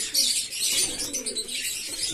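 Rock pigeons coo softly at feeding time over a bright, hissy background of chirps and faint wing rustles.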